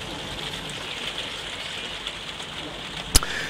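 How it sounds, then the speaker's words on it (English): Steady rain falling on an English day, a soft even hiss of drops throughout, with one sharp knock near the end. "Of course, it's a lovely rainy day in England"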